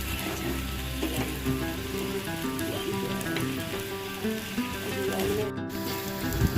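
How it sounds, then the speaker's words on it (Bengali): Pointed gourd (potol) fries with spices in a pan, a steady close sizzle with occasional scraping and stirring sounds throughout. "মশলার সাথে পটলটাকে বেশ অনেকটা সময় ধরে কষিয়ে নিয়ে"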